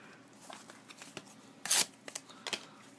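Fake sports cards being torn up by hand: a run of dry papery rips and crinkles, with one loud tearing burst near the middle and a few sharper tears afterward, close up with no talking.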